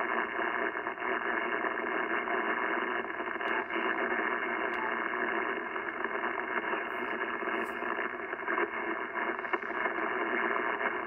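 Receiver noise from a Yaesu FT-710 amateur radio with its noise blanker engaged, a steady band-limited hiss and static with faint crackles, continuous and even throughout.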